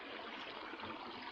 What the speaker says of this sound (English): this one actually has a little creek